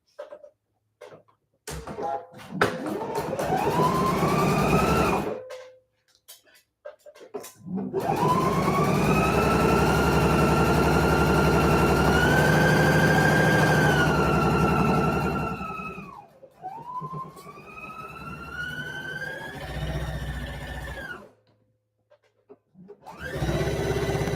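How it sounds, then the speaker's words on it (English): A sewing machine stitches a knit bodice lining at a 3/8 inch seam allowance, whirring in long sustained runs with rising and falling motor pitch, broken by short pauses, and no voices. "going to go ahead and stitch 3/8 of an inch seam allowance again"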